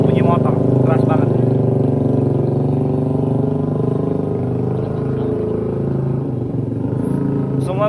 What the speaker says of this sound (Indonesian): bunyi motor keras banget